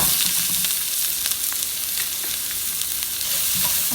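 Onion stir-frying in a very hot pan, loud continuous sizzling with scattered crackles and scraping stirs, no speech.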